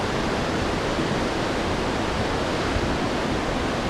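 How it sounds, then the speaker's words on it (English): The Limit Waterfall pours with a loud, dense, unbroken roar of rushing water, heard up close and filling the whole scene without pause. "Just arrived the Limit Waterfall"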